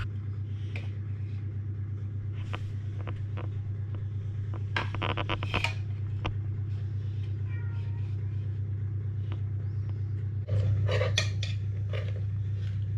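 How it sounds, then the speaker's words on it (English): Food being mixed in a bowl, with repeated clinking and scraping of a utensil against the bowl, louder bursts around the middle and near the end, over a steady low hum and a faint voice. "Good mixing. Be delicious. More mixing. Mix it."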